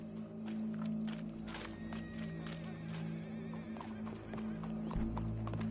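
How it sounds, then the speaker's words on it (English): Horse hooves clip-clopping in a PS4 video game, a run of hard taps over a constant bed of game ambience, fairly quiet and steady throughout. "Go brush that horse, officer."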